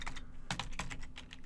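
Quick clicks of commands typed on a computer keyboard, several sharp close keystrokes in an uneven rhythm over a faint steady hum, with no speech.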